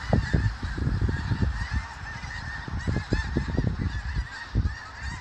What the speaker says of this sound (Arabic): ده اعتقد ده وز او حاجة زي كده